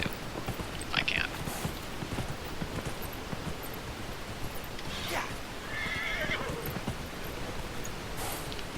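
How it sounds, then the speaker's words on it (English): In Dragon Age: Inquisition, a mounted horse whinnies a couple of times and its hooves clip-clop steadily over a constant outdoor ambience, fairly close and moderately loud. "We're gonna get on my horse and we're gonna ride and try to get out"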